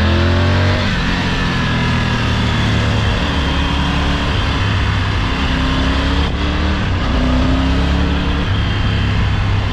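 Triumph Tiger 900 Rally motorcycle engine running on a ride, loud and close, revving up through repeated gear changes with rising and falling tones and steady road and wind noise beneath.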